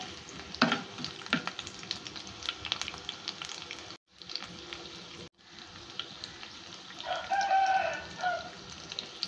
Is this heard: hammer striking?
no